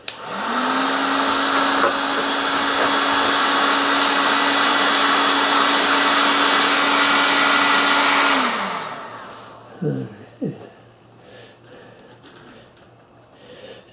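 A heat gun blows steadily on a plastic gutter downspout being warmed for bending, a loud even whir lasting about eight seconds before it cuts off, followed by a couple of brief handling knocks and quiet room noise.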